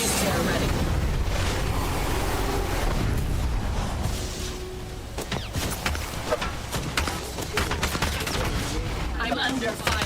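Video game gunfire during a battle royale-style match: rapid bursts and scattered shots crackle in close, dense volleys over a rumbling background.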